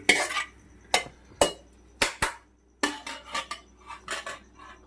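A metal spoon clanks and scrapes in a pot of mutton head curry with gravy, a series of sharp, close strikes and scrapes at an irregular rhythm with no talking.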